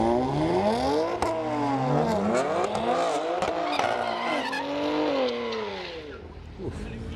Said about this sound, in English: This car fucking launches.